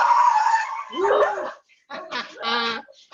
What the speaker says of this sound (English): we have 3 hound dogs, and sometimes they go nuts